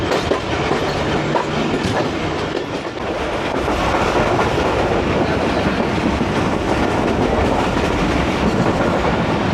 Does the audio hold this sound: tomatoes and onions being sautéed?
no